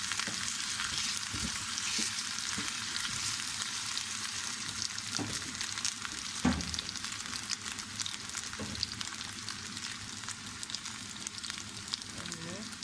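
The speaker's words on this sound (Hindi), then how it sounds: "आलू को फ्राई कर देंगे, जल्दी तक पकाएंगे।" Potato pieces fry in a pan with salt for chana chaat, a soft steady sizzle with occasional stirring knocks and scrapes, fairly quiet and close.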